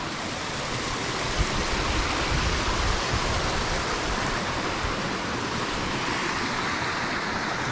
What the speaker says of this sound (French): Comme quoi les ruisseaux ils montent bien en hiver.